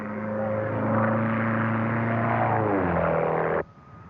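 A small propeller plane drones loudly and close overhead, its pitch dropping as it passes, then the engine noise cuts off abruptly.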